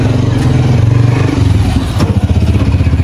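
A Massey Ferguson 240 tractor engine running steadily while driving a thresher, a loud close low rumbling chug with rhythmic pulses and some mechanical clatter.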